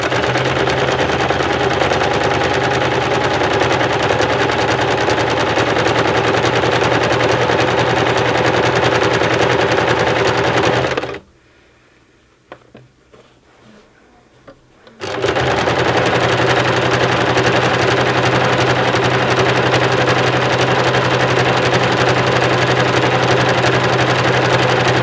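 A sewing machine stitches close to the edge of a tote bag in a steady, loud, fast whirring run. It stops for a few seconds of near silence, then resumes just as continuously.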